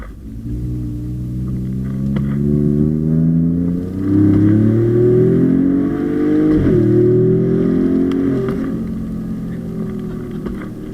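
A Ford Raptor pickup truck's engine climbs and falls through repeated loud revs, rising whine swelling and easing across gear changes, heard from inside at close range with steady road roar and no talking.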